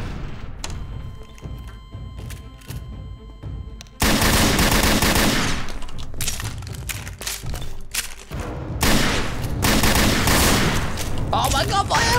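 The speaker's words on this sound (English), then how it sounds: "He shot me straight away." Gunfire in Garry's Mod DarkRP: a dense burst of rapid shots erupts loudly after a quieter stretch, then continues in heavy volleys with a brief lull, with a speaking voice faintly present in the mix.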